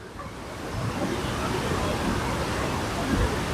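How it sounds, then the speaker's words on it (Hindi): Steady broadband rushing of river water, constant and full, heard close to the river on the Govindghat to Ghangharia trek, with faint indistinct murmurs of people in the background. "पानी का शोर"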